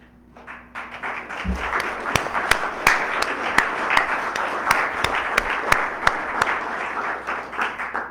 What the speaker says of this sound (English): that applause was for the panel